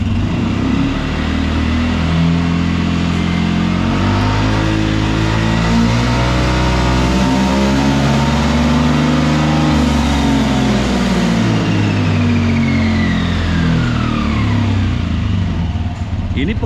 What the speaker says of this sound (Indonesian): coba kita gas ya.